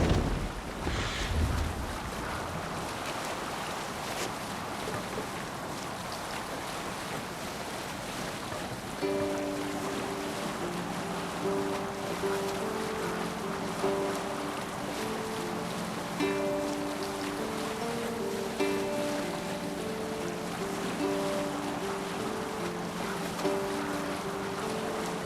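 A Viking longship under sail on open sea in Assassin's Creed Valhalla, with steady wind and wave wash rolling continuously while soft ambient music tones drift beneath.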